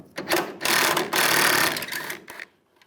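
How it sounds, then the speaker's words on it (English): A 13mm socket ratchet works a tailgate bolt loose on a 2007-2013 Chevy Silverado, a quick run of close, rapid clicking that stops abruptly. "Take this bolt out, use a 13mm socket."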